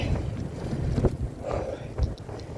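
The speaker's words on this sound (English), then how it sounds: "Ooh, the wind's blowing against me." Wind buffeting a microphone outdoors during a walk, a steady low rumble with gusty swells and a few sharper bumps, no talking.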